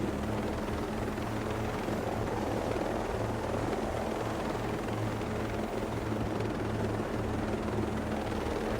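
Helicopter rotor and engine drone in the game Ghost Recon Breakpoint, a steady loud whirring hum with low pulsing beats that holds constant throughout, with no voices over it.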